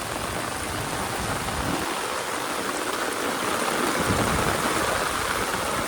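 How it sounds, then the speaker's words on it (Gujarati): Heavy rain pours steadily in Morbi, Gujarat, a dense, loud, unbroken hiss of water that fills the scene for the whole stretch. "મોરબીની અંદર ફૂલ વરસાદ છે અત્યારે"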